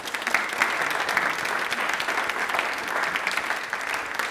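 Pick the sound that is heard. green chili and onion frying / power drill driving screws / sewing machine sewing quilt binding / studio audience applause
studio audience applause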